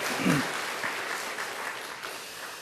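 A church congregation applauding the choir during a Sunday worship service, dense clapping at a steady level throughout with no voices standing out.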